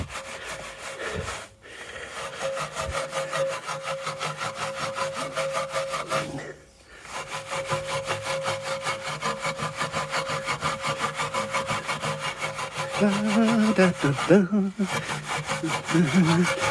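A brush scrubs a very dirty alloy wheel coated in foaming wheel cleaner, producing continuous rapid back-and-forth rasping strokes, close and fairly loud, broken by a few short pauses.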